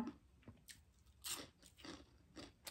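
Close, crisp crunching and biting on crunchy roast skin, several distinct bites and chews in an irregular rhythm, heard alone without talk.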